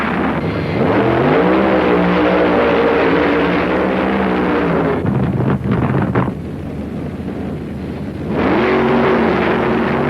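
Funny cars make a drag race run, a loud roaring engine wail rising in pitch, then a short gap before another roar builds, heard through heavy wind-buffeted noise with no voices.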